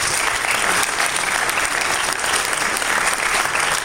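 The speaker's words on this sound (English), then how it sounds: "You should give them a round of applause right now." Dense, loud applause from a large crowd at a university graduation ceremony, an even, sustained roar of clapping that holds steady throughout.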